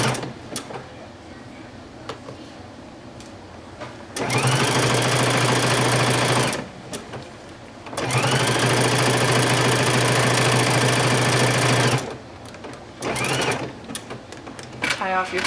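A sewing machine stitches a patch onto the thick sleeve of a letterman jacket, running in two long loud bursts of steady whirring with quieter pauses between them.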